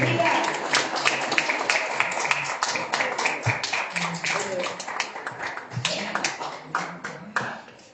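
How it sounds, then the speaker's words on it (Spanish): A church congregation claps steadily and rhythmically throughout, a dense run of sharp hand claps with voices speaking beneath. "le damos un aplauso a Dios por la palabra"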